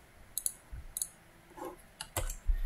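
Mouse clicks on a Windows computer while opening the search bar: several sharp, close clicks in pairs and singles with short gaps, plus a few soft desk knocks, no talking.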